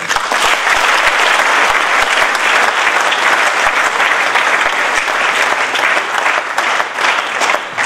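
An audience at a church gathering honouring a bishop applauds loudly and steadily, many hands clapping together in a dense, continuous roar that holds its level throughout.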